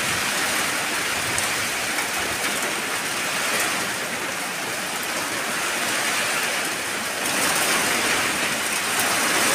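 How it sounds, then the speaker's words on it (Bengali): Heavy monsoon rain drums on a tin roof in a village, a dense, steady hiss and patter that stays loud and unbroken throughout, with no voices. "টিনের চালে রিমঝিম বৃষ্টি"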